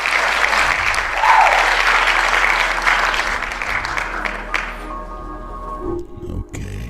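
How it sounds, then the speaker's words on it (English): Audience applause in a talk hall, a dense sustained clapping that fades out toward the end, with a brief trace of voices underneath. "Come on, that deserves some applause."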